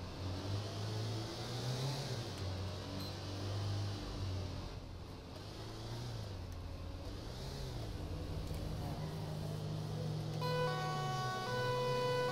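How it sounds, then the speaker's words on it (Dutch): A wailing ambulance siren in the GTA 5 EMS mod, the same siren used on a Mercedes B-Class and Vito, rising and falling steadily over engine noise, with a brief higher horn-like tone near the end and no talking. "Gewoon de sirene die ik ook voor de B-klasse en de Vito gebruik"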